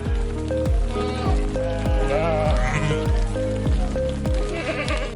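Sheep bleating repeatedly in a steady rhythm of short calls, close and fairly loud, over a constant background wash.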